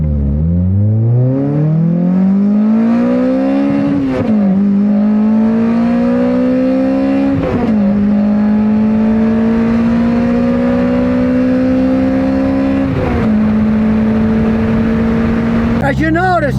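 A small-engine sports car with variable valve timing accelerates hard on a drag strip, its revs climbing steadily from inside the cabin with brief dips at each gear change.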